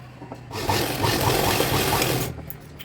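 An electric sewing machine runs in one continuous burst of about two seconds, loud and close, stitching a lehenga made from saree fabric for a one-year-old girl. Quieter handling sounds come before and after.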